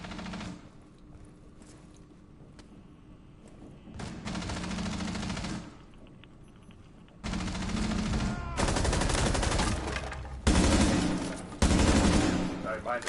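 Gunfire in the tactical shooter Rainbow Six Siege comes as repeated loud bursts of rapid automatic fire, separated by short pauses and quieter stretches of the game's own sound.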